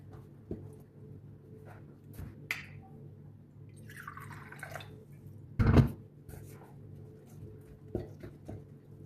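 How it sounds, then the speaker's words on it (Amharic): Lukewarm water is added slowly to luqaimat dough in a home kitchen, producing faint, sparse drips and small splashes over a quiet background, with one brief louder splash midway. "ትንሽ ለብ ያለ ውሃ እንጨምራለን።"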